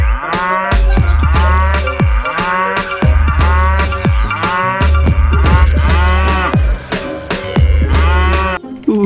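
A toy cow gives loud, repeated electronic moos in a steady rhythm, about a dozen calls in a row, each one separated by a short gap.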